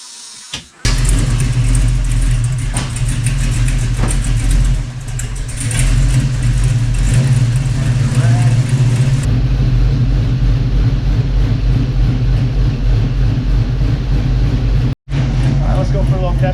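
A repaired truck engine runs loud and close during a test drive, a steady low rumbling drone with voices at times, cutting out briefly near the end before resuming.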